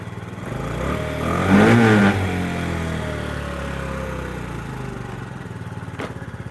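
A moped engine idles after an idle adjustment, then revs up briefly and settles back to a steady putter, close and fairly loud, with no talking.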